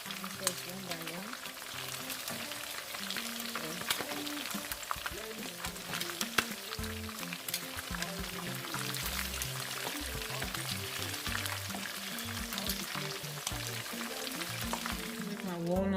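Shrimp frying in hot oil for honey walnut shrimp, a steady dense sizzle with crackling pops running throughout at close range, with no talking.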